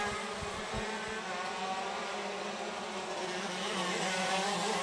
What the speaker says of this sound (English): Barrichello definitely giving everything left in the go-kart right now